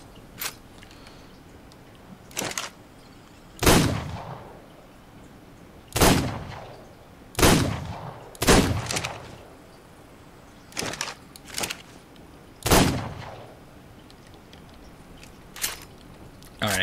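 Shots from a weak, poorly firing gun in the ARK survival video game, about a dozen single sharp reports spaced irregularly over several seconds, some followed by short rumbling tails, loud against a quiet background.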